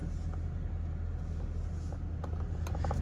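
A stock seventh-generation Honda Civic's engine hums steadily with a low rumble while driving at night, constant and moderately loud, with a few faint clicks near the end.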